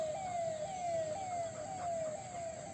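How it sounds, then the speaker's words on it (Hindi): An ambulance siren near AIIMS in Rishikesh wails in repeated falling sweeps, moderately distant, over a low hum of traffic. "पीछे आपने सायरन सुना होगा एम्बुलेंस का।"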